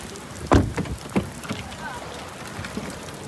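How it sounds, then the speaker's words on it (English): Outdoor rain gives a steady hiss of falling drops, broken by a few close, sharp thumps and splashes, with a voice briefly heard under the patter. "Raining a little too hard."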